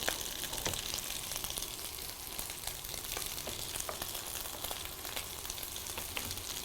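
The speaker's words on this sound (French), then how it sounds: "On cuit tous les légumes et fruits." Vegetables and fruit such as peppers and eggplant sizzle in a pan for Guinean home cooking, a loud, dense, steady crackle with scattered sharper pops throughout.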